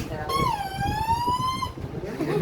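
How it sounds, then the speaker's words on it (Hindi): A wailing siren holds one long, slowly sweeping tone with strong harmonics for about a second and a half, loud and steady over room noise and murmur. "सायरन दे रहा है।"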